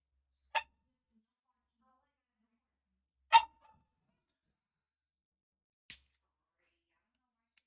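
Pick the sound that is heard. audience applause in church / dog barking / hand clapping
dog barking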